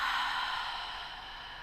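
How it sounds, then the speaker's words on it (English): A single slow exhale through the mouth during a yoga breathing exercise, a soft airy breath that starts a little stronger and fades gently, close and quiet with no talking. "You're just going to exhale out through the mouth."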